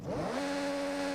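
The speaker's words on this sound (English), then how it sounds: "i3 motorbike engine." An inline-three motorbike engine swapped into a car in a racing video game revs up quickly, its pitch rising for a moment before settling into a steady, loud whirring drone.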